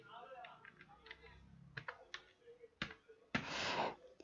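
Scattered clicks of computer keys being tapped, irregular and close, ending in a short burst of rustling noise.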